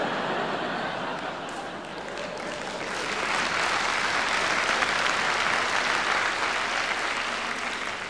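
Comedy club audience breaks into applause, steady at first and then swelling louder and denser after a few seconds, sustained clapping mixed with scattered crowd noise and light chuckles.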